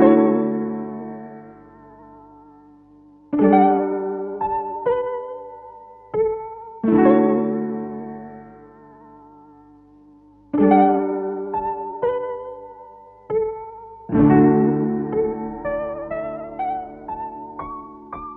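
Vintage tape piano plugin with a retro lo-fi character, playing slow sustained chords and melody notes in separate phrases, each attack ringing out and fading, loud and alone.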